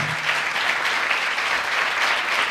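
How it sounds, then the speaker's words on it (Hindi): A church congregation bursts into vigorous applause, many people clapping in a continuous, even wash throughout, with no speech over it. "आओ खुदा के जलाल के लिए ज़ोरदार तालियां।"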